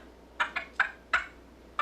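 A teenage girl imitates a wild turkey with her voice, a rapid series of about five short clucking yelps in uneven rhythm, fairly close and alone.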